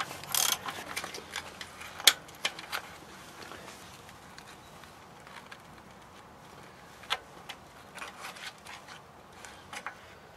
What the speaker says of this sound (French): on desserre donc les deux écrous